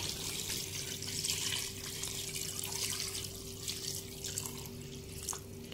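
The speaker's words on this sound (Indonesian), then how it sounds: "Terus kita masukkan air." Water poured into a pot of chicken opor with ground spice paste, a steady, fairly faint stream under a constant low hum, without speech.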